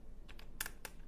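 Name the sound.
typing on a computer keyboard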